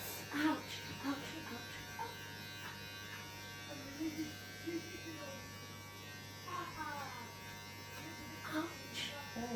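An electric shaver buzzes steadily through a home haircut on a boy's head, cutting off a mohawk, with a near, continuous hum while voices talk and cry out over it.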